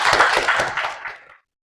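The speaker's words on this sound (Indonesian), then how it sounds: "Ya, bisa berikan tepuk tangan." A classroom of students claps during a mathematics lesson, brief quick applause close by that dies away after about a second and a half, followed by silence.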